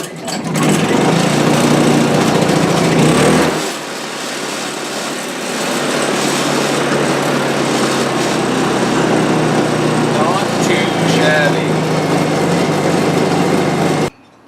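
A Honda 2000 generator after a spark plug change, its small engine pull-started then running loud and steady close by, with a brief dip in pitch before settling into a continuous drone that cuts off at the end.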